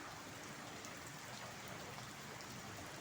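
Steady rain pours down in Abu Dhabi, a dense, even hiss of drops on surfaces that holds at the same level throughout with no voices.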